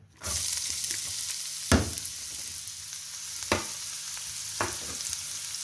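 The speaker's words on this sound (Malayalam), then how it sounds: "ഇതിനകത്തേക്ക് ചോപ്പ് ചെയ്ത് വെച്ചേക്കണ ജിഞ്ചർ, ചതച്ച് വെച്ച ഗാർലിക്, അതുപോലെ പച്ചമുളക് ആഡ് ചെയ്യാണ്" Chopped ginger, crushed garlic and green chillies sizzling in hot oil in a pan for duck roast, a steady loud hiss that starts abruptly, broken by three sharp clinks of a stirring spoon.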